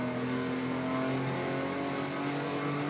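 A Porsche 911 race car accelerates hard around the Nürburgring, its engine droning loud and close with a steady tone that climbs slightly, no voices.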